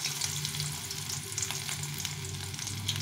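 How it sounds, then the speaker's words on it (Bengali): Small fish-oil fritters shallow-frying in a little oil: a steady, close sizzling crackle with scattered pops, constant and unbroken, no speech. "এখন আমি ছোট ছোট করে এইভাবে করে বড়াগুলো ভেজে নেব"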